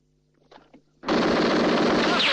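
Sustained machine-gun fire from a 1969 Sinai war film erupts after a brief spoken order, a loud, dense unbroken burst that fills the rest of the moment.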